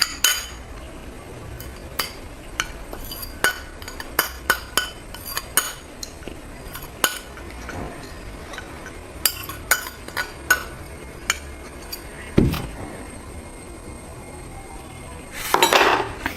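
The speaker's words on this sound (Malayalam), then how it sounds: "ഹണിയും കൂടി നമുക്ക് ഇതിലേക്ക് ഒഴിച്ചു കൊടുക്കാം. ഇത് നമുക്ക് നന്നായിട്ട് അങ്ങ് മിക്സ് ചെയ്യാം." A spoon stirs honey and curd into a face pack in a bowl, sending out scattered clinks and taps against the bowl at an irregular pace, close and fairly quiet, with a louder scraping burst near the end.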